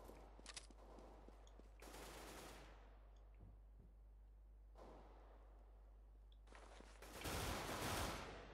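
Gunfire in Counter-Strike: Global Offensive, with a few short bursts early on, a longer spray near two seconds, another around five seconds and a louder sustained volley at the end. No voices are heard.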